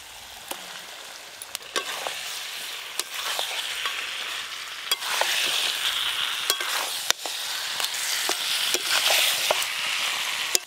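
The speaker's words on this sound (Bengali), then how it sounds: "মশলার সাথে খাসি মাংস কিন্তু এই রকম ভালো করে কষে নিতে হবে" Mutton and fried potatoes cook with spices in a pan. Spoon scrapes and knocks come at irregular intervals over a continuous hissing sizzle, close up, with no talking.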